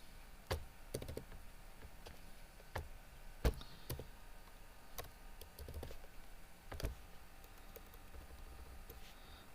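Someone types on a computer keyboard while entering a date, giving sparse, irregular individual key clicks that are soft, close and quiet, with no voices.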